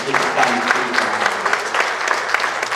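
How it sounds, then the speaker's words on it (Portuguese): A church congregation claps in praise, a steady mass of hands with some sharper nearby claps, while a faint voice or sustained tone lingers low underneath. "Aplaudam a Ele nesta noite."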